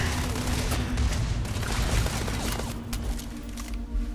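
P90 gunfire in the Starfield video game, loud sustained bursts of rapid shots running throughout with a low background hum and no clear gaps.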